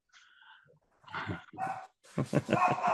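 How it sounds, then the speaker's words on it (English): A hungry dog begging to be fed gives a thin whine, then a few close, loud barks and yelps in quick bursts. "There's your dog telling you it's hungry and it wants to be fed now."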